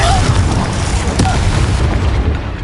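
A Confringo fire spell blasts off in the Hogwarts Legacy video game on PS5, a loud booming burst with sustained rumbling roar that tapers off toward the end.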